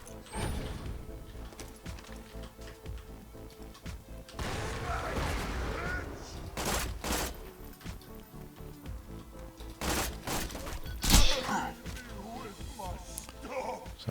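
Rifle burst fire from Zer0 in Borderlands 2 during a raid on Digistruct Peak: a few sharp clustered bursts and impacts amid game effects and clatter, loud and close, with scattered sound effects between.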